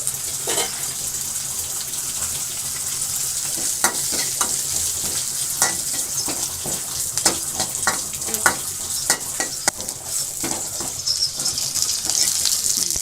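Cumin seeds sizzling and crackling in hot oil for a tempering, a loud continuous fry hiss scattered with sharp pops and the clink and scrape of stirring, with no voices.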